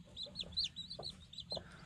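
Newly hatched chicks chirp in rapid high peeps while a hen gives a few low soft clucks, all close and fairly quiet.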